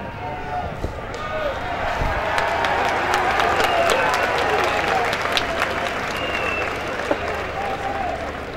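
A crowd at an Italian political rally in Rome claps in sustained applause with scattered cheers, loud and dense throughout, with voices mixed in.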